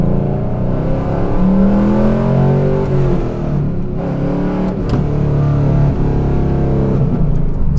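A 1999 Pontiac Firebird Trans Am WS6 revs loud and close, its engine note climbing and falling in repeated surges, a deep, steady roar with no voices over it.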